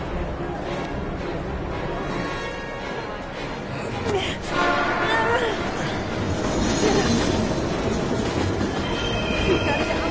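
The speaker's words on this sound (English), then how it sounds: "We've gotta get on that train, Ethan." Train in the video game Heavy Rain, a loud continuous rumble of rolling wagons with clattering wheels and occasional squeals, steady and close throughout.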